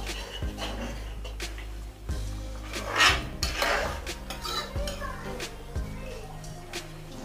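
A utensil stirs lauki kofta curry in a pan, clanking and scraping against the metal in irregular nearby knocks over a low background hum.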